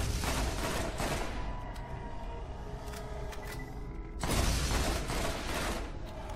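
Gunfire in the video game Borderlands comes as dense rapid bursts of shots with mechanical clatter, loud and close, easing in the middle and returning in a heavy burst near the end, with no talk.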